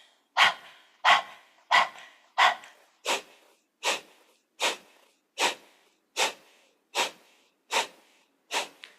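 Rapid forceful exhalations through the nose during a yoga breath-of-fire practice, about a dozen sharp evenly spaced puffs, close and clear with near silence between them.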